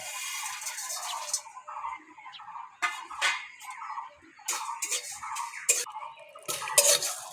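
Whole spices such as cumin, coriander, dried chillies and garam masala rattle and scrape in a dry pan as they roast, with light clinks and taps of a spoon stirring in irregular bursts, close and quiet.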